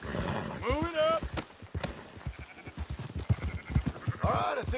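Hooves clip-clop under a horse in Red Dead Redemption 2 while sheep bleat nearby, with a whinny toward the start and end; game characters talk over much of the herd noise.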